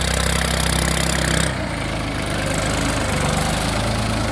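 A 2019 New Holland 3630 tractor with an inline pump idles nearby, a loud steady diesel throb that shifts to a rougher, lower pulsing after about a second and a half.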